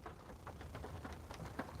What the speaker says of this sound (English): You hear the raindrops hitting the car?